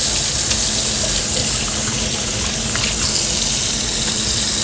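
Water is poured over car paint to rinse off an eco-friendly paint cleaner, a steady broadband splashing and gushing that stays loud and close from start to finish, with no voices.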